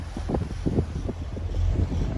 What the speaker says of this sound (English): It's windy, so I'm not promising what the sound quality is going to be like